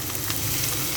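Onion is dropped into garlic frying in oil, making a dense, steady, close sizzle for a brief moment.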